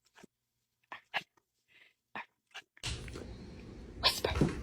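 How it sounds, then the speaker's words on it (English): A dog gives several soft, short, breathy woofs spread out with gaps, followed by louder broadband rustling and a couple of sharper bursts near the end. "You whisper bark. You go woof."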